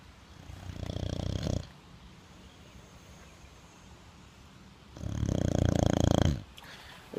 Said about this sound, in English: You've probably heard her snoring there.